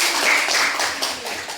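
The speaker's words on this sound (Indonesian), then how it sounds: "Ya, tepuk tangan untuk Tobia." Classroom clapping for a student's answer, a steady broadband patter of many hands sustained throughout at moderate level, with no clear voices over it.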